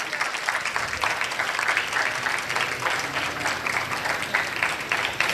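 Sustained audience applause fills a mushaira poetry gathering in Faisalabad, a dense, steady wash of many hands clapping from start to end with no pauses.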